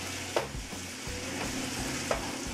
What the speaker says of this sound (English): Stir it for about 2 minutes on medium-high flame.